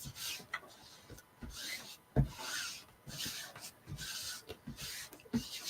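A Chalk Couture transfer is burnished down with steady, soft rubbing strokes close by. The scraping comes in a rhythmic series at quiet to moderate level, with no talking.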